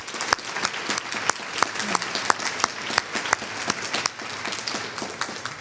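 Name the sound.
audience applause at an awards ceremony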